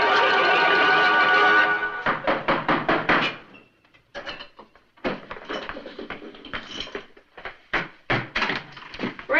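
Door being opened and closed in a 1960s sitcom household, heard as a cluster of sharp wooden knocks and clatter followed by scattered bumps and handling noises, fairly close and loud with no talking.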